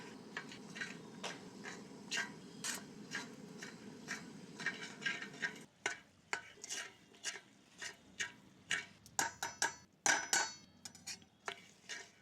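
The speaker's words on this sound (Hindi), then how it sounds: "फ्लैक्स सीड भी छिटकने लगे हैं" Flax seeds spluttering and popping in a hot pan while roasting for a gond and atta parodi, with irregular sharp crackles and ticks, close by, scattered unevenly with small quiet gaps between bursts.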